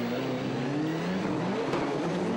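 Citroën C4 rallycross cars at a European Rallycross Championship round in Germany roar past with loud, sustained engine drone, pitch rising and falling as the cars race by.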